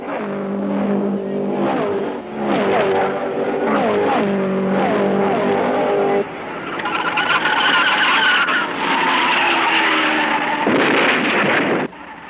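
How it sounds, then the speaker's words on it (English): Race cars accelerating hard at the start of a race, loud close engines screaming and shifting up through gears, with the roar of multiple cars overlapping across the clip. "Mario Andretti accelerates ahead, closely pursued by Jim Clark"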